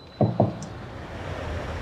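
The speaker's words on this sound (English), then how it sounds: "listen to what happens when I open the door." Door being opened in a New York building: two quick knock-like clunks of the latch and handle close together, followed by a low, steady wash of outside city noise.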